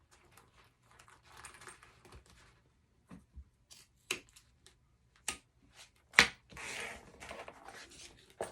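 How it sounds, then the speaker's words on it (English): Scissors snip along fabric edges while trimming down a zipper for a double-zip wristlet, a series of sharp, irregular close clicks and cuts with quiet pauses between, growing denser toward the end. "So I'm just going to trim down my zipper on all"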